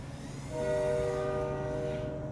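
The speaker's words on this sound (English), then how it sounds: "There's the train again. have no idea why they still use those whistles." A train horn sounds from a distance as a steady, sustained chord over low background rumble, holding for about two seconds.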